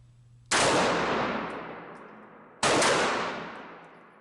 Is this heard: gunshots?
yes